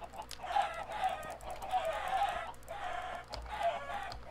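Chickens cluck in Minecraft, repeated bursts of clucking in a steady rhythm, moderately loud and close, with no talk over them.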